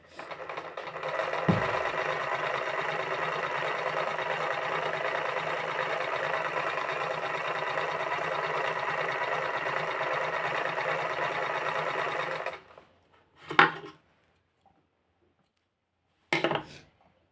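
A sewing machine runs a long, steady, close whir while stitching a picot edge on a saree, then stops, followed by a couple of short bursts of handling noise.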